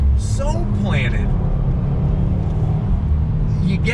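A Subaru WRX STI's flat-four boxer engine gives a steady low rumble from inside the car, and someone talks over it throughout.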